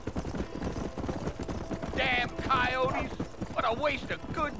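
Horse hooves clip-clop in a steady rhythm in the Red Dead Redemption video game, mid-level beneath game voices and music that carry over the hoofbeats.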